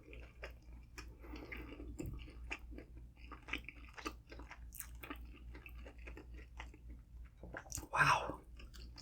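Wet, crunchy chewing of El Pollo Loco chicken skin dipped in sauce, close and fairly quiet, with irregular bites and squishes and a brief louder smack near the end.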